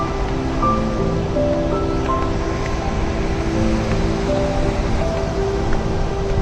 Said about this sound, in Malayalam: ബാക്ക്ഗ്രൗണ്ടിൽ കേൾക്കുന്ന ഡിസ്റ്റർബൻസ് വെള്ളം വീഴുന്നതിന്റെ സൗണ്ടാണ്.